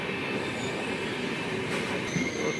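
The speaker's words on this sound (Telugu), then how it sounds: "మంచిర్యాల్ సిటీలో మధ్యలోకి వెళ్ళి ట్రైన్ అయితే వెళ్తుంది. మన భాగ్యనగర్ ఎక్స్ప్రెస్." Bhagyanagar Express passenger train rolling through Mancherial in rain, a steady close rumble of wheels on rails with faint squealing and rattling carriages, continuous and loud, no talk.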